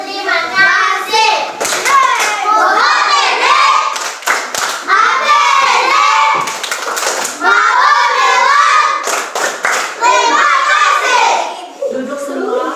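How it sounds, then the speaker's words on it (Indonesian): Schoolchildren in an Indonesian classroom perform a rhythmic thank-you clap, bursts of hand claps alternating with loud children's voices chanting and shouting together, close and lively. "Ayo, tepuk terima kasih dulu."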